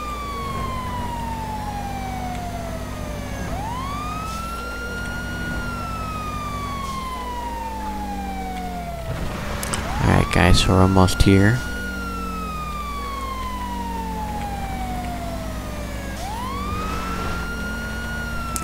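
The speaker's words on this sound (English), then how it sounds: "Guys, I'm just gonna kill my siren here." A police car siren from a GTA V LSPDFR mod wails in long rising and falling sweeps over an engine drone, with someone talking partway through as the siren continues.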